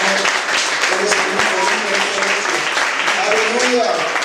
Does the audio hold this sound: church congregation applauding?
yes